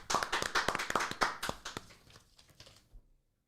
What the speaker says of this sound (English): Can I get a round of applause, everyone?